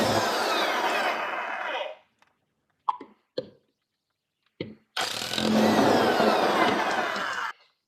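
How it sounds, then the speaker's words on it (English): A power impact wrench spins car wheel lug nuts off in two long, loud, close whirring bursts, separated by a few sharp metallic clinks and knocks as the nuts come free. "then you can remove the lug nut."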